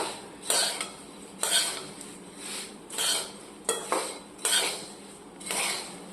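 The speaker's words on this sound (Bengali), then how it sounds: "মুড়ি কষা হচ্ছে।" Puffed rice (muri) is stir-fried in oil over a low flame, with a utensil scraping and rattling against the pan in regular sweeping strokes, about one per second, close and clear with no talking.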